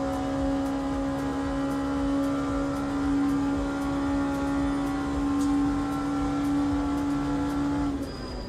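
A race car in the sim racing game Le Mans Ultimate runs at a steady, loud engine drone for several seconds without a break, then the tone drops off sharply near the end.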